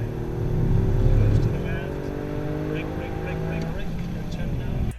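Exhaust note of a 2020 Toyota GR Yaris three-cylinder engine, a steady droning rumble that swells slightly then holds, with someone talking over it.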